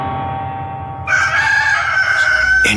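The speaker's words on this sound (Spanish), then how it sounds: "En ese momento, un gallo cantó." A rooster crows loudly and close in a Spanish-language dramatized Bible reading, one long drawn-out cock-a-doodle-doo beginning after a second of quiet background and ringing on to the end.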